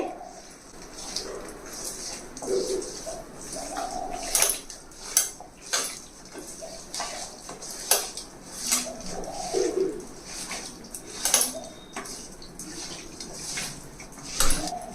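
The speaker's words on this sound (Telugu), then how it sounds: "ఇప్పుడు ఇవన్నీ వేసేసిన తర్వాత ఒకసారి బాగా కలపాలండి" Fish curry ingredients with peanut oil being stirred in a pot, giving repeated clinks and scrapes of a utensil against metal at a steady, uneven rhythm, fairly close, with faint background noise and birds cooing.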